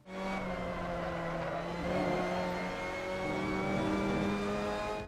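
A Mazda MX-5 Cup race car's engine in the racing game Assetto Corsa drones steadily at high revs around Okayama circuit, loud and continuous, rising slightly in pitch as it accelerates, with faint tyre noise underneath.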